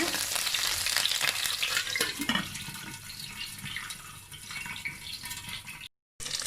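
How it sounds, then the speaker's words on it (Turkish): Shallots sautéing in a pan for a vegetable chicken dish, a steady bright sizzle with occasional stirring scrapes and faint watery clatter, close and continuous, briefly cutting out near the end. "İlk yapacağımız işlem arpacık soğanları kavurmak olacak"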